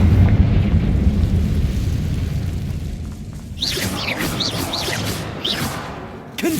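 A Confringo fire spell goes off in Hogwarts Legacy as a loud, sustained blast with a rumbling low end, followed by crackling, whooshing fiery bursts that keep flaring.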